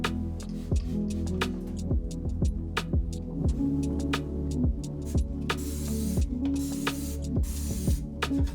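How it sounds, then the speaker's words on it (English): A spray bottle of all-purpose vinegar cleaner has its trigger squeezed over and over, giving short hissing bursts of mist against a low background hum. "I'll reach for our all-purpose vinegar spray and a microfiber cloth."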